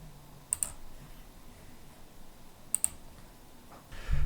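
Keys tapped on a computer keyboard in two short clusters of quick clicks, close and crisp over a quiet room, with a brief louder shuffle at the end.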